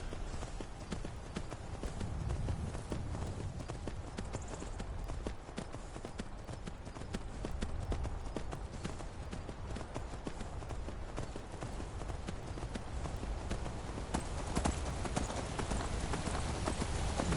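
Steady clip-clop of horse hooves in Skyrim, a continuous rhythmic trot close by as the horse catches up, with faint game ambience and no clear talk.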